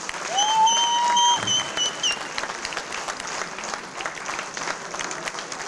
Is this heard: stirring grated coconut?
no